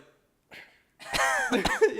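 A voice imitates a cough: a brief faint huff, a pause, then a longer raspy burst of throaty, breathy noise, close and fairly loud.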